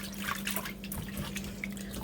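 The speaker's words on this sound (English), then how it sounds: "and put in the water there, Okay. So that's just cold water?" Cold tap water poured a little at a time into a lasagna dish in a home kitchen, a steady low splashing trickle with faint drips throughout, no voices.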